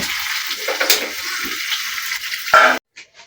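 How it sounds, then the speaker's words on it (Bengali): Fish frying in oil in a home kitchen, a loud close hiss and sizzle that holds steady, then cuts off abruptly near the end. "মাছ ভাজা হয়ে যাচ্ছে মাছ ভাজার সাথে বেগুন ভাজাটা নেব"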